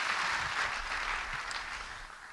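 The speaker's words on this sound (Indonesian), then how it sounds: "beri tepuk tangan bagi dia" A church congregation claps together, a soft, dense wash of applause that sounds somewhat distant and holds steady for a couple of seconds.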